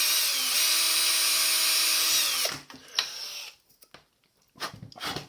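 A power drill bores a small hole through a mount while installing an ADJ Mega Tripar Profile light, a loud steady whine for about two and a half seconds that stops abruptly, followed by faint handling clatter.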